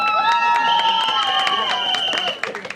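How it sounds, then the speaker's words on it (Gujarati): Audience clapping at a sangeet music performance, a steady patter of many hands running under sustained musical tones and fading near the end. "બેઠા હોવા છતાં કોઈએ તાળી પાડવામાં આળસ નહીં કરી,"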